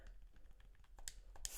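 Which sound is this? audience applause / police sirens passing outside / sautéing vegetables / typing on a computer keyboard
typing on a computer keyboard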